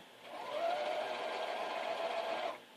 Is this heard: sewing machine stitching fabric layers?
yes